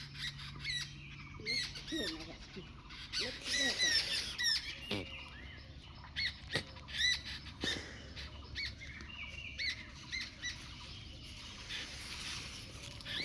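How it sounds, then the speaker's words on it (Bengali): A rescued barn owl gives harsh squawking calls in short bursts, close and fairly faint, over a quiet outdoor background with occasional other noises between calls. "লক্ষ্মী পেঁচা পাখি।"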